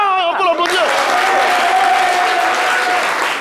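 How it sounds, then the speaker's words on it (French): An audience at a French-language talk show applauds a guest; after a brief stretch of voice at the start, a dense, loud wash of clapping fills the rest, with a faint steady tone running beneath. "on peut l'applaudir"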